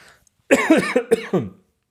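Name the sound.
cough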